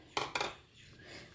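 Cashews and tomato pieces drop into a mixer jar with two quick, close clinks of food on metal, then a quiet lull.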